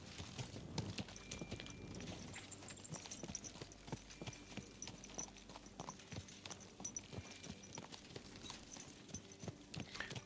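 Horse hooves clip-clop in a steady walking rhythm through the whole stretch in Kingdom Come: Deliverance II, fairly quiet and continuous with no voices over them.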